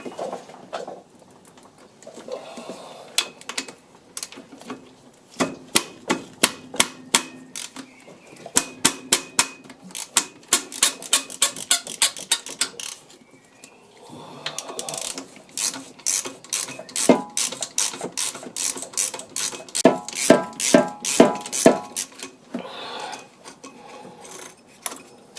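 Ratcheting clicks and mechanical clatter ring out in bursts while a tensioner pulley comes off a Porsche 911 996 C4S engine with a noisy drivebelt, close and fairly loud with pauses between runs.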